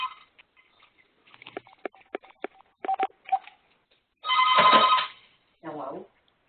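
A telephone rings once in a bright, sustained electronic burst, followed by a shorter softer ring, after a series of clicks and ticks in a quiet room during an online meeting.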